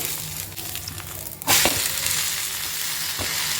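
Vegetable dosa frying on a hot pan, a steady close sizzle that jumps sharply louder partway through as the batter is turned, with a few soft scraping clicks from the spatula.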